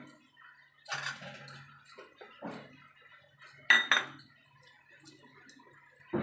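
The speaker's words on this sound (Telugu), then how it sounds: "ఇప్పుడు దీంట్లో సాల్ట్ వేసుకుందామా" A spoon clinks and scrapes against a metal pot as salt goes in while cooking, in a few sharp, bright metallic taps and rattles separated by quiet pauses.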